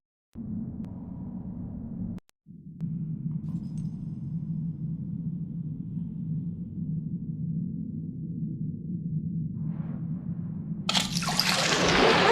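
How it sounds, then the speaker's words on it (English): Water drains steadily out of a machine in the Secret Files Tunguska adventure game, a continuous low gurgling rush that runs almost without pause, briefly cuts out, then swells louder near the end. "The water's going to drain right out again."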